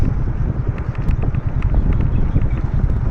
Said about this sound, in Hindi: बड़ा अच्छी माशाल्लाह छोटी छोटी हवा चल रही है